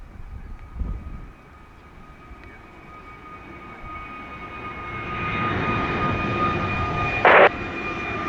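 A jet airliner takes off at Montego Bay airport, and its engine roar builds steadily from a distant rumble to a loud, sustained hiss and whine, with a brief sharp burst near the end.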